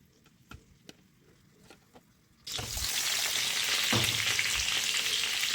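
Stuffed brinjals dropping into hot oil set off a loud, steady sizzle and crackle after a few soft clinks and taps, the frying continuing strongly to the end.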